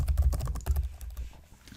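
Quick typing on a computer keyboard, a close rapid patter of key clicks that thins out toward the end.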